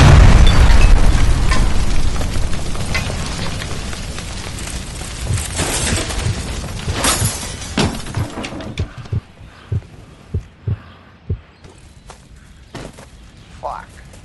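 Gas line explosion in the video game L.A. Noire: a loud, long boom and rumbling blast that trails off into debris, followed by a series of sharp footsteps or thuds.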